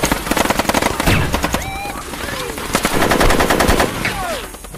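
Film gunfire as attackers surround a cocaine factory and rain bullets on it: loud, rapid machine-gun bursts with rattling shots and whizzing ricochets, dense and continuous from start to end.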